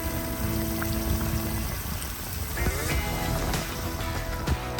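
Steady rain pattering and hissing around a bicycle ride through Chuncheon, Korea, a dense continuous wash with faint mechanical and tonal sounds mixed in, no talk.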